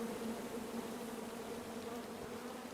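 Angry bees from a tree in the King's Quest video game buzz in a steady, droning hum, fairly faint and continuous throughout, with no speech.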